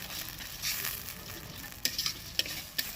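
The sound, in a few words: stirring frying cauliflower manchurian in pan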